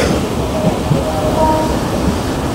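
A mostly empty passenger train moving in the early morning, heard from inside as a steady low rumble and rattle of the carriage, close and continuous with a faint voice.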